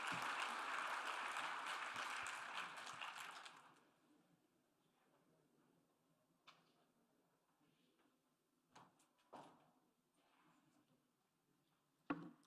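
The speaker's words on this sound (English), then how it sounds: "Round of applause for him as he makes his way up." An audience at the IUCN Africa Protected Areas Congress applauds as former Ethiopian Prime Minister Desalegn walks up: dense, loud clapping for about four seconds, then a quiet hall with scattered knocks and shuffles.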